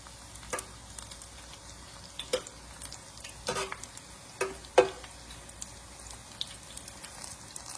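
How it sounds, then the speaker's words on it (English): Corn fritters fry in a pan with a steady soft sizzle, broken by a few sharp pops and crackles spaced out over several seconds. "So we're just gonna let those fry up."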